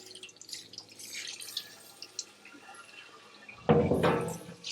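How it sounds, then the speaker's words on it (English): Water runs and splashes over a part from a cider press being restored, faint dripping at first, then a louder, steady rinsing gush near the end, with no talking. "give a quick rinse here, see how it looks"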